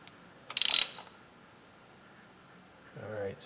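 A ratchet tightens valve cover bolts on a 3900 LZ9 engine during head gasket replacement, giving one quick, loud burst of clicks followed by a quiet pause and a softer mechanical rattle near the end.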